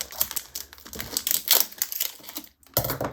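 Tough plastic ribbon packaging being opened by hand, a run of crisp crinkling and crackling bursts close by, irregular and clattery, with a short pause before a final rustle.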